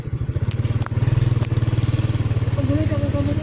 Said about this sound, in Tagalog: Nagsakay lang kami ng motor